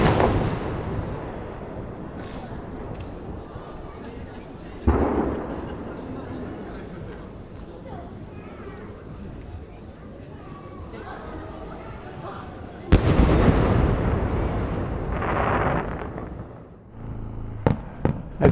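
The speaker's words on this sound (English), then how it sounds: "the fireworks are still taking off now and then" Fireworks at the Chichibu night festival in Japan rumble and crackle at a distance, with a sharp burst near the end and a few later pops, while people talk.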